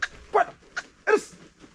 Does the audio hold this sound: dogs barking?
yes